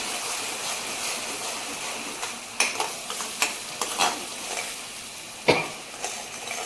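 Spinach sizzles steadily in a pan for palak paneer, broken by a few sharp scraping stirs and clacks near the middle and end, with no voices.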